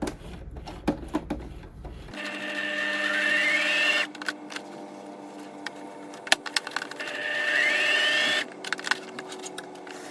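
A sewing machine stitches a seam close to the fabric edge on a McCalls 8011 women's jacket, running in two steady motorized bursts separated by a pause, with soft handling clicks and rustles between runs.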